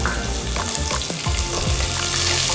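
A large chopped onion drops into hot oil with whole spices, bay leaf among them, for a kurma. A loud, steady sizzle holds throughout, with a few stirring clicks and scrapes.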